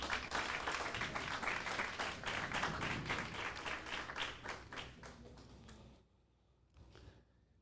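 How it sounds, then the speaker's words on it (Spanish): A church congregation applauds in a loud, dense burst of clapping that carries on for about six seconds, then drops away abruptly, leaving a few scattered claps in near silence. "Eso es grande y se merece un fuerte aplauso al Señor."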